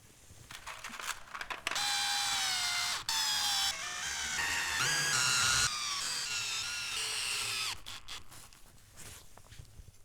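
Traction studs are driven into winter tires with a buzzing stud tool, its whirring, ratcheting bursts running close and steady for several seconds between short pauses.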